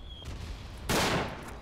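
Distant gunfire in the World War I shooter game Verdun, a faint rumble followed by a single sharp crack with a long noisy tail, no talk.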